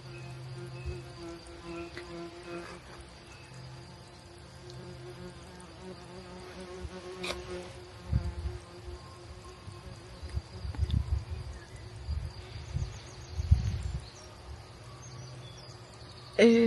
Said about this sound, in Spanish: no sé si es una avispa, una abeja, un cucarrón, es un bicho muy grande